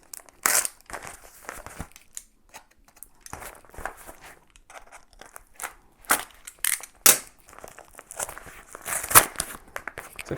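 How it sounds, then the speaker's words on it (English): A blade slicing through tight packing tape and tearing open a cardboard package of HD DVDs, with crunchy, crinkling cuts and rips in irregular bursts, close by and with no talking. "I'm going to need the blade for this because it's taped quite tightly."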